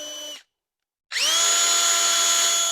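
A short burst from an electric drill stops, then after a pause the motor spins up again into a steady, high-pitched whine that holds to the end, driving a seat motor in a flooded Chrysler SRT8.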